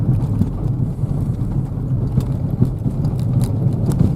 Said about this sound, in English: cobblestone roads, and it's quite a surface to drive on